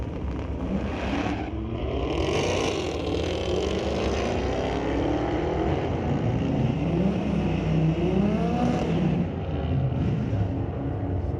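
Drag racing cars at Mission Raceway Park roar loudly and continuously, engines revving and climbing in pitch as they accelerate down the strip, a dense, heavy blast of noise with no speech.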